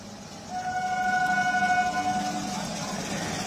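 A train standing near a railway level crossing by Nasibpur station in West Bengal, with a steady rumbling drone and a sustained horn-like tone held for a couple of seconds, fairly close and loud.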